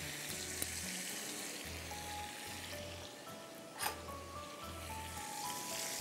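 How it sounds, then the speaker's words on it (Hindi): Crushed garlic sizzles steadily in hot butter in a home kitchen pan, a continuous soft frying hiss with a brief louder spatter near the middle, while low hum pulses underneath. "कुटा हुआ लहसुन चला गया"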